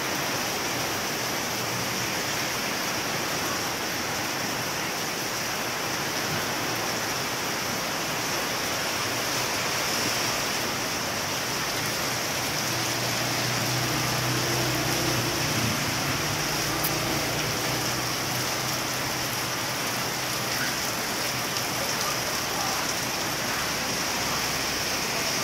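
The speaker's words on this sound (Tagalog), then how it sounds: "lakas ng ulan" Steady, dense rainfall roars continuously throughout, a broadband wash of heavy rain with no pauses and no voices.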